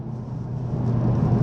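A 2018 Kia Stinger GT Limited accelerating hard, its engine giving a steady, loud rumble that builds from inside the cabin.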